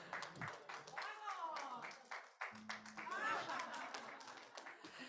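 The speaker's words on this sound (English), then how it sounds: "Ladies and gentlemen, let's give a big round of applause." Audience clapping at a tourism event with Indonesia's Minister of Tourism, scattered claps building into applause while voices talk over it.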